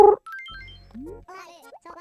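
A voice imitates a mourning dove's call, with soft low cooing tones and a rising glide, close and fairly quiet after a brief burst of speech at the start.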